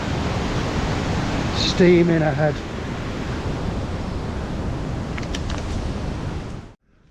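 A small waterfall beside a monsoon-season trekking trail in Nepal rushes as a steady, loud broadband hiss that fills the whole stretch, with a voice briefly speaking over it before it cuts off.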